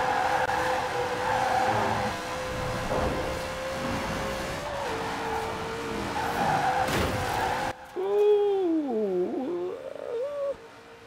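A 9.5L Ford Double Down drag car in Forza Horizon 4 drones with a steady engine tone, with tire squeal in places, then cuts off abruptly and gives way to a voice with whooping, sliding pitch.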